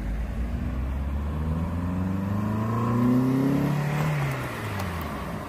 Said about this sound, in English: Well, the vehicle's got speed to it anyway, you know.